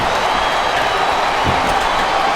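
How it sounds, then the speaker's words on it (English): Arena crowd in WWE SmackDown vs. Raw 2007 on Xbox 360 during an ironman match, giving a loud, continuous roar of cheering and applause. It stays even and unbroken for the whole stretch. "I love hearing the crowd come alive"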